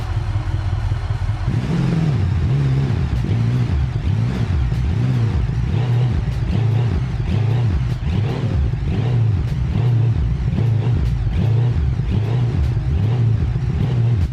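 A supercharged drag car engine in a video game idles with a loud, lumpy, loping rumble that pulses rhythmically and never lets up.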